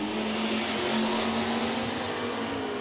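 A naturally aspirated Ford Fox body drag car with tailpipes and a three-gear transmission runs at a racetrack, its engine a loud, steady, high-revving roar that holds throughout with no talk.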